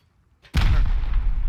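A single loud rocket explosion in the video game Rust bursts out after a brief lead-in, then a heavy low rumble sustains close and booming with no talk over it.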